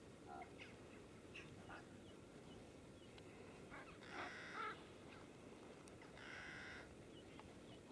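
Ravens and crows call faintly in the distance, a few scattered croaks and caws over steady outdoor background noise near trees on a coastal walk.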